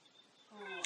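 In The Sims, a white cat gives one short, rising meow that swells near the end, fairly faint and heard alone.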